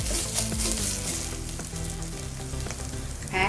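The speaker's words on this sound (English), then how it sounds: "It's turned brown, add ginger garlic paste. Mix it for a few seconds." Onions fry in hot oil with ginger garlic paste for a restaurant-style tandoori chicken gravy, a dense, loud sizzle with stirring scrapes throughout and no speech.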